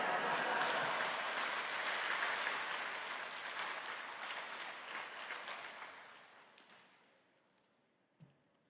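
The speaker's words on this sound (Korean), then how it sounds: "나오실 때 할렐루야로 하나님께 영광 돌리고 박수로 맞이하시겠습니다." A church congregation applauds at a dawn worship service, broad sustained clapping that fills the room, holds strong for several seconds, then gradually thins and fades out, ending with a single soft knock.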